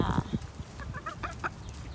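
Chickens cluck and squawk on a farm, a loud burst of close clucking at the start followed by a run of short, higher calls and chatter from the flock.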